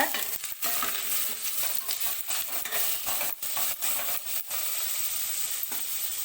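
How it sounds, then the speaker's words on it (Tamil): Coarsely cut onions are sautéed in a pan for a sweet corn gravy, giving a steady frying sizzle broken by repeated scraping stirs of a spatula, close and fairly loud with no talking. "இதை நல்லா வதக்கிக்கோங்க."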